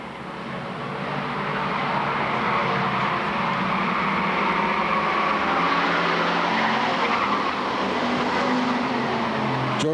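Bomber-class race cars at Lakeport Speedway roar and skid around the oval, with a sustained engine drone and tire squeal that swells in the first seconds and then holds loud throughout.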